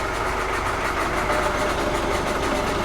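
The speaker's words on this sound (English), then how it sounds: "Sounds like the revs are coming up again." A Volvo Penta KAD32 marine diesel engine runs steadily after its fuel filter has been primed, with a continuous close low rumble and even, gently pulsing revs and no talk.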